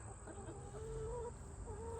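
Several hens, including white leghorns, cluck and murmur softly, close by, in a continuous chatter over a low steady background hum.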